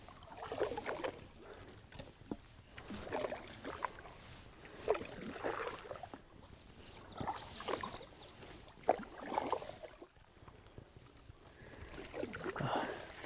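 Canoe being paddled across a big lake toward a narrow passage, with quiet, rhythmic paddle strokes and soft water swirls repeating every second or two in an otherwise calm, hushed setting.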